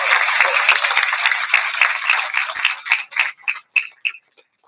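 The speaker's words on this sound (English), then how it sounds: "let's start the evening by having a round of applause for the quarterback club" An induction dinner audience at a hall of fame ceremony applauds the quarterback club, steady dense clapping that thins into a few scattered, separate claps before fading out.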